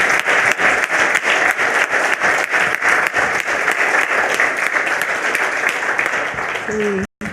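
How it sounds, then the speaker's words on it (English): Audience applause after a paleontology lecture in Chile, a dense, steady wash of many hands clapping loudly and close for about seven seconds before cutting off abruptly. "Big applause."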